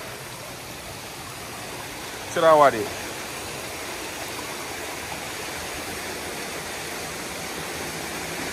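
Steady rushing stream water at Dark View Falls in St. Vincent, a constant broadband roar from close by that runs the whole time, briefly interrupted by a short spoken phrase.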